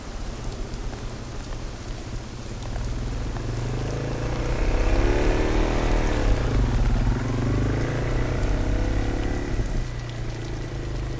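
Steady rain pours down on a hard surface while a low engine rumbles nearby, swelling and fading as a vehicle passes.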